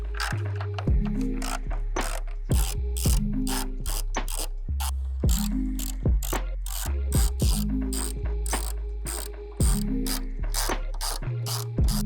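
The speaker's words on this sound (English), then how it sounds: "we'll start from the top using the 8mm. Take these bolts out." A ratchet wrench backs out 8mm bolts on the inner grille bracket of a Ford Next-Gen Ranger Raptor, with rapid bursts of close, crisp clicking in repeated runs and brief pauses between strokes.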